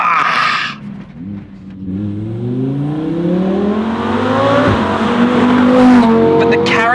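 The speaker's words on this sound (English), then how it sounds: "the character of the Huracan has always been that really loud, obnoxious engine" A loud Lamborghini Huracan Performante engine revs and climbs through the gears, its pitch rising in sweeping pulls, close by and dominant throughout.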